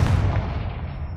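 A Confringo blast spell explodes in Hogwarts Legacy, a single heavy boom that hits at once and then decays into a rumbling tail.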